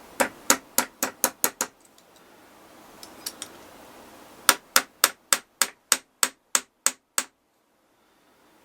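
A part from a Dinky model van is tapped on a small anvil with sharp metallic hammer strikes in two quick, evenly paced runs of about six and ten blows, separated by a short pause with faint handling noise.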